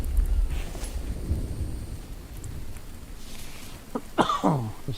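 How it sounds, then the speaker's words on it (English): Someone with a cold coughs: a couple of short, rough bursts near the end, heard close over a low, rumbling background. "Still got a little bit of cough from my cold."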